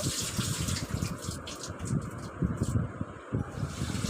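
Water sloshes and gushes in uneven bursts, like food being swirled and rinsed in a vessel, close by with no voices.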